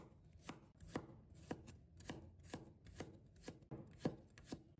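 Knife mincing sliced garlic on a cutting board, a quick, close series of sharp chops at a fairly regular rhythm, heard alone with no talk, recorded at a low level.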